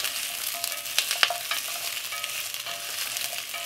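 Japanese clear soup ingredients sizzling in a pot on a stove at medium heat, a steady close crackle with irregular scraping stir clicks throughout and no talk.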